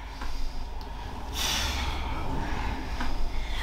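Forceful breath pushed out hard during an at-home abdominal workout, a sharp noisy exhale that swells to a longer rush of air around the middle, with a quieter puff near the end, all over steady low background noise.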